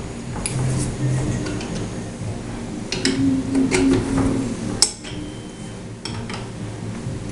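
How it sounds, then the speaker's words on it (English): A 7/16 wrench turns the pump rod of a shallow-well Bison playground pump, giving faint, sparse metallic clinks and ticks over a steady low hum, with one sharper knock near the middle. "I'm using a 7/16 wrench on the rod"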